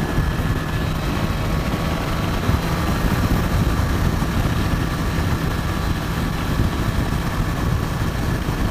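A BMW S1000 XR motorcycle cruises in sixth gear at around 4,000 revs, giving a steady, continuous engine drone mixed with rushing wind noise at an even level with no change in pace.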